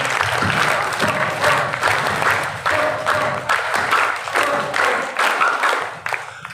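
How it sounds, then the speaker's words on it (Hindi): A school audience gives dense, continuous clapping to welcome a guest in a campus gathering, close and fairly loud with a rhythmic pulse throughout, tapering slightly at the very end. "एक बार इस सुंदर परिसर में इनका स्वागत तालियों के साथ करेंगे।"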